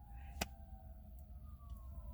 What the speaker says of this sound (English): the sirens is still going because we need help